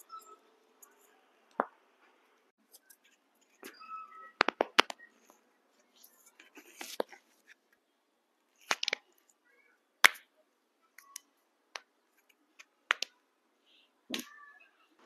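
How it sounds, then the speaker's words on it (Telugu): A person's back cracking, heard as a series of sharp, quiet isolated pops and clicks spread irregularly through near silence. "సో బ్యాక్ బోన్ విరుస్తాను, సౌండ్ వస్తుందా, ఇందులో రికార్డ్ అవుతుందా లేదా చూద్దాం"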